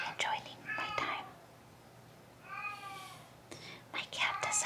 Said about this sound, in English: My cat decided to cry.